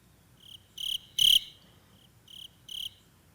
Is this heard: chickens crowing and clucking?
no